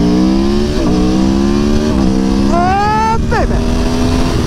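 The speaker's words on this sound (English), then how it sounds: "This thing is awesome, man. I love this bike. Sounds like a MotoGP bike." A motorcycle engine revs loudly, its pitch rising and falling through several throttle blips and a sharp climb near the end, while a rider's voice exclaims over it.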